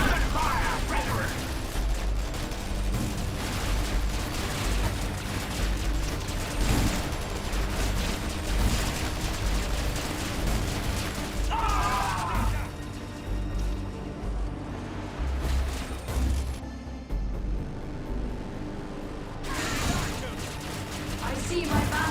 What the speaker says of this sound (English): Return fire, brethren.